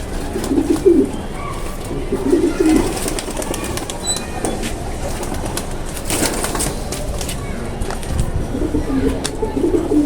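Domestic pigeons coo in repeated low, throaty bursts from a loft. A steady background rustle runs underneath, and a few sharper taps and flutters come through at moderate loudness.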